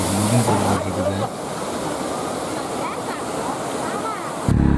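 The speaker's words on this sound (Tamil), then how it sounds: "தண்ணி பார்த்தீங்கன்னா வேறு லெவலில் வந்துட்டுருக்குதுங்க. செம்ம ஃபோர்ஸாக வந்துட்டு இருக்குது." A waterfall on a trip near Hosur and Yelagiri pours down with great force, giving a dense, continuous roar of rushing water at close range. Wind buffets the microphone at the start and the end.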